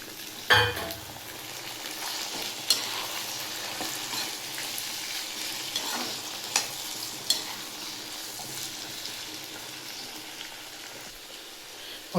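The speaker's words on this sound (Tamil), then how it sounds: "இப்போ வந்து தக்காளி போட்டுக்கலாம்" Tomatoes frying in a pan for a Karnataka-style tomato green peas dish, a quiet steady sizzle broken by a few spoon clinks and stirring scrapes, no voices.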